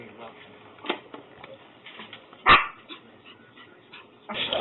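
A dog in a garage gives a few short barks and yips, one sharp and loud near the middle and another at the end, mixed in with a voice.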